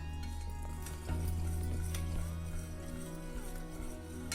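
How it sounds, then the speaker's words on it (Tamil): Hot chocolate with cocoa powder is stirred in a pot, with faint scraping and clinking strokes of a spoon over a low background hum. The sound is quiet and close, with no voices. "இதை நல்லா கிண்டி விடுங்க, கொஞ்சம் திக்காகணும்."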